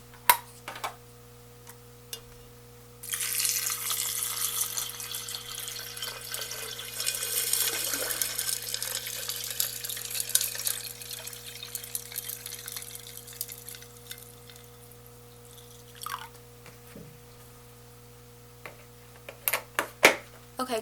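Water poured from a container into a betta fish tank, a steady splashing pour for about ten seconds that tapers off, followed by a few faint clinks and drips.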